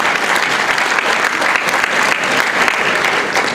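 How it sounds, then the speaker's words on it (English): Applause at an annual women's center charity gala: a dense, steady wash of hand clapping from a large audience, loud and continuous for the whole stretch with no voices on top. "I stepped on some applause there"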